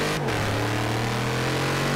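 Car engine in Forza Horizon 3 revving hard during a drift, a loud, steady high-pitched roar that climbs after a brief dip and holds near and continuous throughout.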